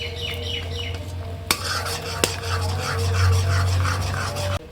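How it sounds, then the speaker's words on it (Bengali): Cashews and raisins go into a pan while cooking food for Janmashtami, with two sharp clinks followed by continuous stirring and scraping that stays loud and close, with no talking. "একটু কাজু কিশমিশও দিয়ে দিতেছি।"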